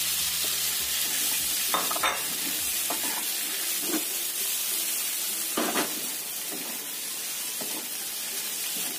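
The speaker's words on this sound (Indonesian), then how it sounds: "kita tambahkan terong yang sudah kita goreng." Fried eggplant stirred into hot garlic oil in a pan, a steady bright sizzle with scraping utensil strokes and clatters early on, continuing loud and unbroken with no voices.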